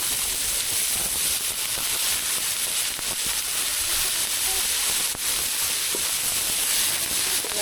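A steady, loud hiss of raw banana peel frying in hot oil, constant throughout with faint crackles.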